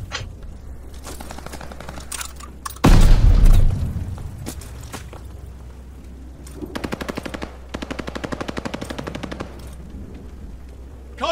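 Gunfire and explosions in the Call of Duty Vanguard video game: one heavy boom, then rapid automatic weapon bursts in quick rattling volleys, with scattered single shots between, loud and close.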